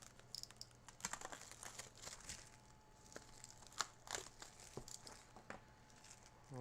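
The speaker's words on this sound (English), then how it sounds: "Let's go ahead and unwrap this." Packaging being unwrapped from Ender 5 Plus 3D printer parts: close, irregular crinkling and rustling of plastic wrap with scattered crisp crackles and tearing sounds.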